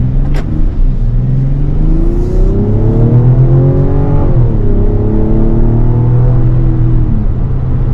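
A 2024 Mazda CX-90 in sport mode accelerates up through its gears, the engine rising in pitch, briefly dropping at a shift, then climbing again with a steady, fairly loud throaty rumble and no talking over it.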